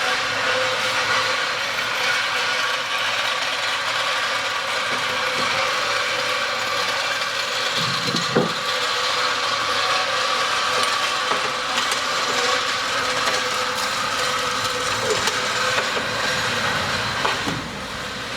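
Electric power running board motors on a Ford F-150 whir and ratchet with a steady mechanical grinding as the boards deploy, continuous and close, with a couple of brief clunks near the middle and end.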